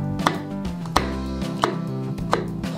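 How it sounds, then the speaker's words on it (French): Knife chopping a half garlic clove into small sticks on a cutting board: four sharp, evenly spaced chops close up, with no talking. "Je vais couper ma demi-gousse d'ail en deux."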